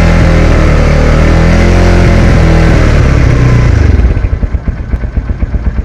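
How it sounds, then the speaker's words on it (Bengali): A Runner Turbo 125cc motorcycle engine runs steadily and loudly nearby, then settles into a rougher, pulsing idle with distinct rhythmic beats toward the end. "ইঞ্জিন কিন্তু চলছে, ইঞ্জিনের সাউন্ডটা দেখতে পাচ্ছেন খুবই স্মুথ"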